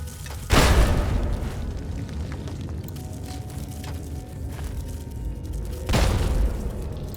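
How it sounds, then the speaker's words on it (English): Two heavy frag grenade blasts in Fallout 3, the first about half a second in and the second near the end, each a sharp loud boom with a rumbling tail over constant game background noise. "Let's try and use the grenades. Frag grenade."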